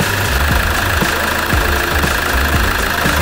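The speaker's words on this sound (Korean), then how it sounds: "자, 일단 시동을 걸려." A truck engine turns over and settles into a steady, loud idle with a rhythmic low knock, heard close by and alone after an oil top-up.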